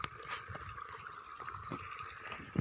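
Irrigation water runs through a farm field channel, a soft, steady trickle and gurgle at low level with a few faint splashes and knocks, no talking.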